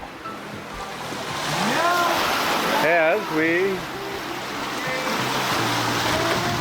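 Steady wash of waves and wind around a sailboat crossing the Atlantic Ocean in about 15 knots of breeze, continuous and fairly loud, with a voice speaking briefly over it.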